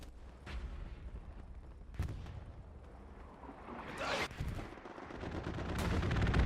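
Aircraft strafing fire in the Hell Let Loose video game on the Carentan map: dense, rumbling bursts of gunfire and impacts rise and fall against a noisy battlefield backdrop.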